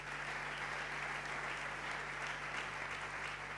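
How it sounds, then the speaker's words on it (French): A church congregation applauds the press team with sustained, even clapping from a large crowd, a steady wash of sound over a low electrical hum. "On peut acclamer notre presse."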